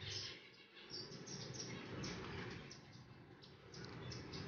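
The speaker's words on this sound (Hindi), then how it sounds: "तो यहाँ आप पीच फेस लव बर्ड्स देख सकते हैं।" Peach-faced lovebirds chirp and tweet in quick, overlapping calls, a busy flock sound at moderate distance over a steady background hum.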